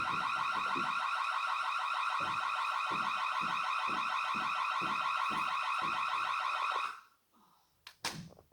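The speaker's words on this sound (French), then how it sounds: "désactiver cette foutue alarme" A loud, continuous electronic museum alarm rings with a rapid pulsing warble for several seconds, then stops abruptly, leaving a few faint knocks.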